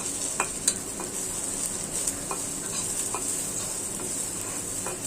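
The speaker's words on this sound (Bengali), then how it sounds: "আমি তেলে ভেজে নিই, সরিষার তেলে।" Nigella seeds frying in mustard oil in a pan, a steady close sizzle with faint scattered pops and occasional light stirring clicks, no voices.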